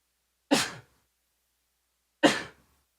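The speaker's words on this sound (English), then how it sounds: "I feel a sneeze coming on, so give me 1 second." A person sneezes twice, each a sharp, explosive burst close to the microphone, separated by nearly two seconds of silence.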